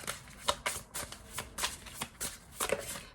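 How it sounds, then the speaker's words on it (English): A tarot deck is shuffled in a run of crisp, repeated riffling bursts with short gaps between them, close and clear with no talking. "I think I need to shuffle this deck a little more"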